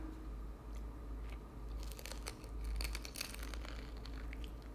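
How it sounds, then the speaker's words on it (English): Close-up crunching and chewing of a homemade Crunchwrap Supreme with Doritos inside, steady crisp bites and crackles over a low background hum, no talking. "so that you can hear how crunchy the Doritos are"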